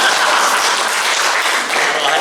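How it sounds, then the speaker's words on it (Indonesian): Church audience at a family sermon applauding, a dense, steady wash of clapping from many hands, loud and close throughout. "Beri tepuk tangan dong."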